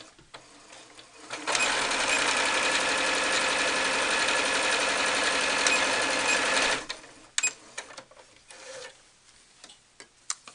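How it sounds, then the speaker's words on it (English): A sewing machine runs steadily for about five seconds, stitching cloth doll head pieces a quarter inch from the edge, with a loud, even mechanical whir up close, framed by quieter handling clicks before and after. "I usually just hold it in place and stitch a 1/4 inch from the edge."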